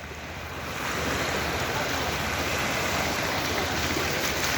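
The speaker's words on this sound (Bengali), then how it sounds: "অনেক সুন্দর ঢেউ, এবং এখানে একটা মাছ ধরার ট্রলার আছে।" Ocean surf rolls in steadily with a fishing trawler nearby on the water, a continuous broadband wash of waves that swells in over the first second and then holds loud and unbroken, with no voices.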